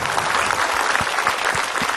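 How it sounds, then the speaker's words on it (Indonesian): Audience applause in a studio hall at an Islamic religious television program, greeting a preacher as he is called on stage; dense, steady clapping fills the whole stretch without any talk. "Ustaz Cecep, tepuk tangan Bu Ustaz Cecep, silakan."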